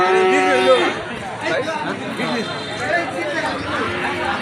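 Deep moos from Holstein Friesian calves and other cattle rise over a noisy, crowded Eid livestock market, with many voices talking around them and one low call standing out near the start.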